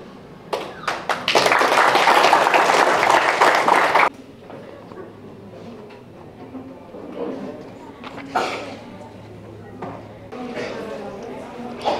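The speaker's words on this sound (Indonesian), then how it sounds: "Kita beri aplaus sekali lagi yang meriah." Applause from an audience at an Indonesian campaign volunteer event, a dense burst of clapping for about three seconds near the start, then quieter scattered claps and murmuring with a second short round later on.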